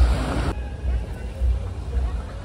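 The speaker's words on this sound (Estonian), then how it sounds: "Paati lükatakse vette." A boat being pushed into the sea at a Mexican beach, with low rumbling wind and surf washing around it and a voice talking over the scene.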